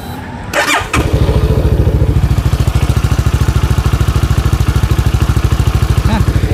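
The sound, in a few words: motorcycle engine idling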